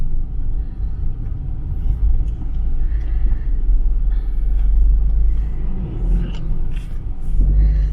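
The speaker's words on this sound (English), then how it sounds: "So you can see all these big trucks hauling fillers to the city." Big trucks hauling fill along a road in the Philippines, a loud, steady low rumble that never lets up, with faint traffic noises scattered on top.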